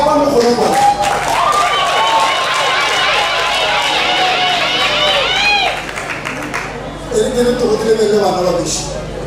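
At a wedding, a crowd bursts into loud, sustained applause and cheering, with music playing underneath; the clapping thins out toward the end.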